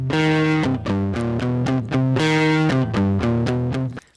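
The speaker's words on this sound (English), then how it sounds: "we could go for a nice distortion pedal sort of sound." Electric guitar played through a Blues Driver distortion pedal, loud and sustained, with a few chords rising and falling in a repeating pattern before cutting off.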